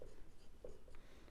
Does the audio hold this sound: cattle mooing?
no